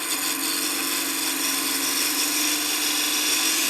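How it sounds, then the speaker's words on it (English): Spindle gouge cutting a small wooden lighthouse ornament spinning on a lathe, a steady, continuous hissing whir with a faint motor hum underneath, close and unbroken throughout with no talking. "we'll use a spindle gouge. Spindle gouge is a little sharper point."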